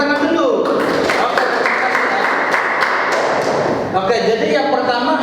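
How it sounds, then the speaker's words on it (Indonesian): An audience at a church sermon breaks into dense, sustained applause that swells and then eases, with a speaking voice running over the clapping. "Oke, tepuk tangan dulu."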